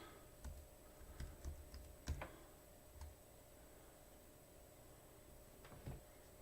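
Computer keyboard typing during a Windows/Linux antivirus install: sparse, faint key clicks and a few heavier strokes at an irregular pace, with a steady background hum and no talking.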